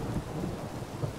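Steady rain with low rumbling thunder in The Witcher 3: The Wild Hunt, a continuous dense wash of downpour and deep rolling sound with no voices.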